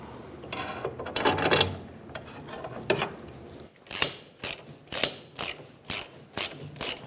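Ratchet tightening a fuel tank strap bolt on a 1999-2006 Chevrolet Silverado, irregular clicking at first, then a run of distinct close ratchet clicks in a steady rhythm.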